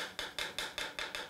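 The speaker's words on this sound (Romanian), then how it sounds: "Și auziți sunetul unui ulcior nears?" Unfired clay jug, finished with beeswax, tapped six times at an even quick rhythm, each knock a short dull thud that fades fast, close by with no talking.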